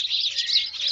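Sparrows chirp in the morning at a cow shelter, a bright, continuous twittering chorus, fairly close, with no other sound beneath it.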